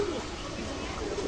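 Pigeons coo in a pigeon shop at Khulna's Barobazar market: a couple of short, low coos at the start and end of a brief moment over a soft background murmur.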